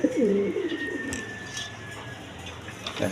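Big-size pigeons at a breeding farm coo loudly and close up in a run of low, rolling calls at the start, then quieter cooing and rustling carries on through the rest.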